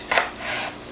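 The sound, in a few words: knife chopping celery on a cutting board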